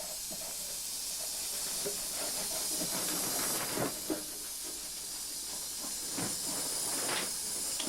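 Degreaser sprays in a steady close hiss onto a seam inside a Talbot Express camper van body, a continuous pressurized rush lasting several seconds with a few faint knocks and shifts underneath.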